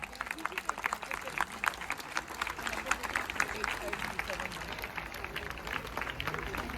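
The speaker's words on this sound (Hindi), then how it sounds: "एक बार जोरदार तालियों से सारे कलाकारों का स्वागत किया जाए" A large crowd claps at a cultural festival at Bharat Mandapam in Delhi, dense steady applause from many hands filling a big hall, with a speaker's voice carrying over it.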